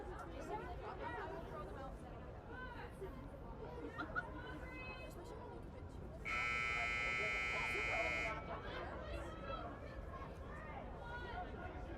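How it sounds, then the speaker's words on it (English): A loud, steady electronic buzzer sounds for about two seconds at the end of a women's rugby sevens match, over crowd chatter and a commentator speaking. "With the buzzer going, this is our last play."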